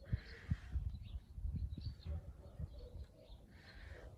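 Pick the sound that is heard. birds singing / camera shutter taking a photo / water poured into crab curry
birds singing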